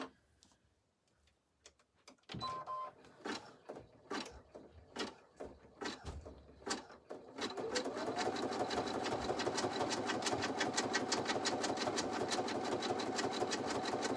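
An embroidery machine stitching an in-the-hoop lined bag, first with sparse ticks and short mechanical bursts, then settling into a loud, fast, steady rattle of stitching that runs close and continuous to the end.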